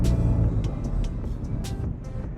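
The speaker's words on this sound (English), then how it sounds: "you can hear that this car really doesn't like second gear" A car with a 3SGTE engine swap drones steadily and roughly in second gear, which it struggles in, with faint clicks and knocks over the rumble and no voices.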